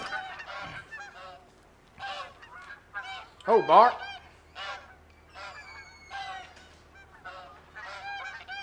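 Snow geese honk repeatedly in theHunter: Call of the Wild on the Askiy Ridge map, a steady run of nasal calls with one louder, closer honk midway, and a voice speaks briefly near the start.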